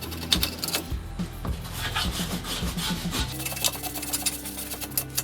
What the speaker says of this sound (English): And if I was using the scraper, then I'd be doing this.